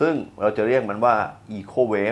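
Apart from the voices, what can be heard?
No distinct noise like a dog, phone or traffic.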